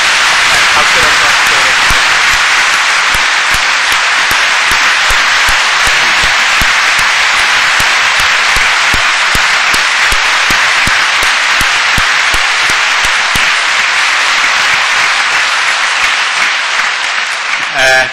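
A church congregation applauds in sustained, loud, dense clapping that fills the whole span without a break.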